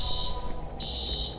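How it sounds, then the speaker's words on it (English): In a video game, a tripped alarm gives off a loud, sustained high electronic tone that breaks briefly and then resumes over a dense low rumble. "Alarm's been tripped."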